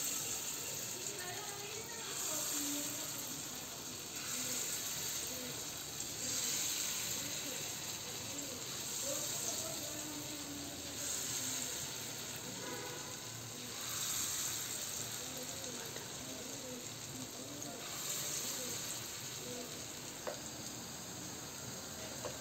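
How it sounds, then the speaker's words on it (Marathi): Small moth bean dal sandage fry in hot oil, giving a steady soft sizzle with fine crackles that runs unbroken for the whole stretch at a fairly low level. "मटकी डाळीचे हे सांडगे बघा किती छान तळून झाले आहेत"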